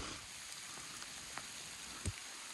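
Steady, faint rain hisses evenly on a trail, with a few isolated drops tapping nearby and no voices.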